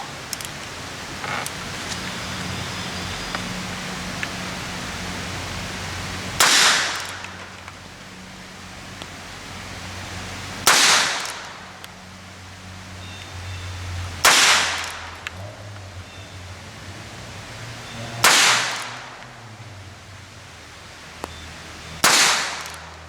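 Heritage .22 revolver firing .22 long rifle rounds outdoors, five sharp cracking shots spaced a few seconds apart, each with a short ringing tail, over a steady hiss of rain.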